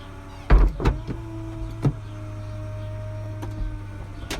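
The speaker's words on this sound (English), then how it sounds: "As you can see, roof mechanism, so there's no levers to pull," Electric folding roof mechanism of a 2010 Peugeot 207CC 1.6VTi GT running: a steady motor whir and hum with a few clunks and thumps near the start, then an even drone, no speech.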